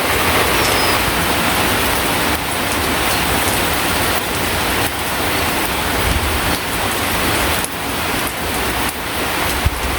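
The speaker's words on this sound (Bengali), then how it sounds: "জোরে বৃষ্টি এলি" Heavy rain pours steadily over a Bangladeshi village, a dense, even hiss of drops on surfaces that stays loud and unbroken throughout, with no voices.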